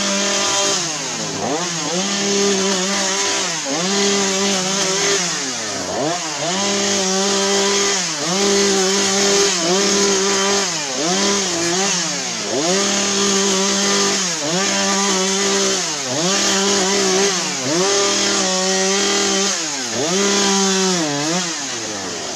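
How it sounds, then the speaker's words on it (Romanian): A chainsaw roars steadily close by, its engine pitch dipping and rising in repeated cycles as it cuts, with no voices, amid a street confrontation in Sibiu. "bă, Sande, strângi drujba"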